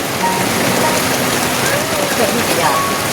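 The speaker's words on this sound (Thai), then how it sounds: "แล้วฝนตก" Steady heavy rain pours down during a storm in rural Thailand, a dense continuous hiss filling the whole scene, loud and close, with no voices breaking through.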